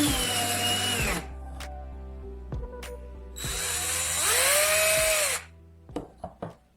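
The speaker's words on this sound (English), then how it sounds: "Turn on the drill at low speed and the insulation will easily separate from the wire." A power drill with a thick cable clamped in its chuck runs at low speed to strip the insulation, whirring in two long bursts separated by a lower hum, then clicking and stopping in short taps.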